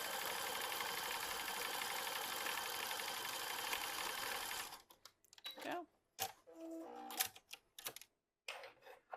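A sewing machine runs in a steady, loud stretch while sewing elastic onto swim bottoms, then stops, leaving scattered handling clicks and rustles.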